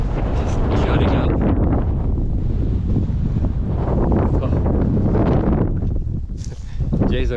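Strong wind buffets a microphone on an exposed rocky ridge along the Appalachian Trail in Pennsylvania, a loud continuous low roar with gusty surges that briefly eases near the end.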